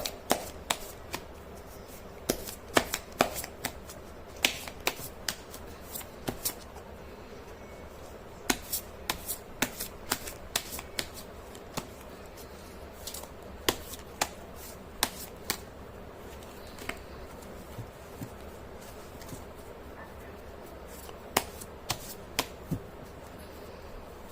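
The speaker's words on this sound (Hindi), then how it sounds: "कर लेते हैं कार्ड की शफलिंग" Tarot cards are shuffled by hand in a quiet room: repeated crisp riffles and soft snapping slaps come in irregular bursts, close and alone.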